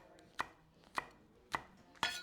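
A knife chops spring onions on a board in four evenly spaced sharp knocks, close and clear against a quiet kitchen background.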